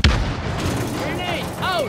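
A stun grenade in a combat game lands and goes off with one sharp, loud bang at the start, followed by reverberant rumble and brief radio-like voice tones.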